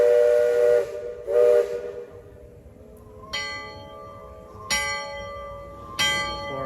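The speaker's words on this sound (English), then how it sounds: "So we're gonna do some whistles." The Liberty Belle riverboat's steam whistle blows in two short blasts, then three longer, bright, tonal whistle blasts sound a moment apart, ringing out at moderate distance.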